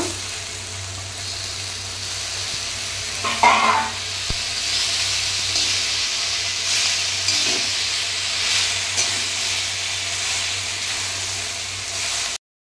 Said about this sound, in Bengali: মশলা সবজি কষা হয়ে গেছে আমার